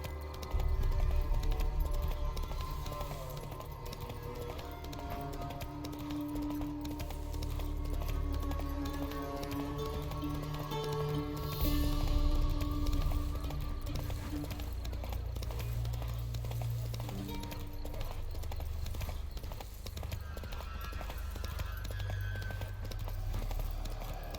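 Hoofbeats of a horse galloping in The Witcher 3 Wild Hunt Next Gen, a steady rolling clip-clop running throughout, layered over a dense, continuous game soundscape.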